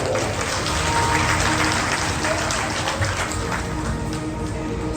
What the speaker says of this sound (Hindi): एक बार अपने लिए भी सब जोरदार तालियां।